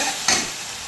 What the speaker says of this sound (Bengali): সামান্য যতটুকু দরকার ততটুকু লবণ দিয়ে ভালো করে মশলাটা কষিয়ে নেব।